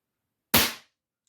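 A single shot from an FAS 606 single-stroke pneumatic target air pistol: one sharp, close crack that fades quickly, with silence before and after.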